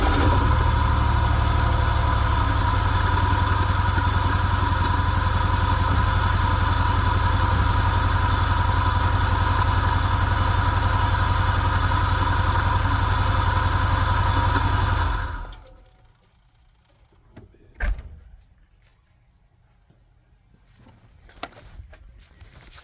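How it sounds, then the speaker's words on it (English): A Pontiac Grand Am engine with newly installed ported heads idling with a misfire, a loud uneven rumbling drone that cuts off abruptly partway through, followed by near silence with a few faint knocks. "Well, apparently I got a misfire."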